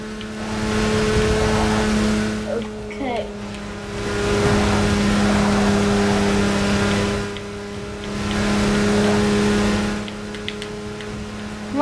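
An F1 car engine in the racing game Forza Motorsport 6 drones with a steady high-pitched whine in three sustained surges, loud and continuous, with brief dips between them; no one speaks over it.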